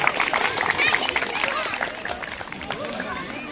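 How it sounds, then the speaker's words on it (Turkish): Audience applauding at an outdoor picnic ceremony, a dense, steady patter of clapping with some voices and chatter mixed in, fairly loud and sustained throughout. "hep birlikte hepimiz birbirimizi alkışlayalım diyorum"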